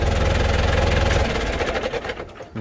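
A low, rumbling New Holland TS90 tractor engine idles close by with a steady chugging throb, then its rhythm loosens and the level dips toward the end.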